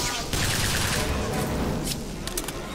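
Shotgun fire in the video game Bioshock Infinite, a dense burst of loud blasts and gunfire filling the short moment, with some voice beneath.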